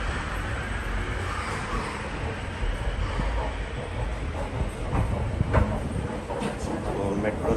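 A metro train rumbles and clatters at a station in Lille, a steady loud low roar with rail noise throughout and voices in the background.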